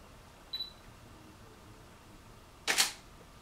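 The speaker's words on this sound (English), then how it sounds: "I'm going to take a picture." A DSLR camera set to a slow 1/25-second shutter speed gives a short, faint high beep, then a sharp, loud shutter click a couple of seconds later in an otherwise quiet room.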